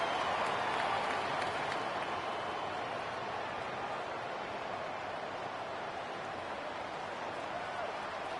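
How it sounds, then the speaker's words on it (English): A large crowd roars steadily throughout, a dense wash of cheering and noise from a packed stadium at an LSU football playoff game, with no breaks. "Listen to the crowd energy here in the early going"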